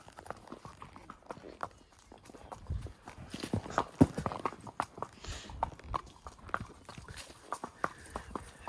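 A horse walks uphill on a slippery but dry trail, its hooves thudding in an uneven clip-clop rhythm, close and fairly soft, with occasional louder strikes.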